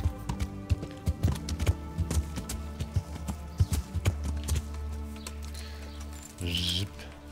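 Horse hooves clip-clop in the medieval game Kingdom Come Deliverance, a run of sharp, fairly close hoof strikes in an uneven rhythm over a steady musical drone, ending in a brief rustle.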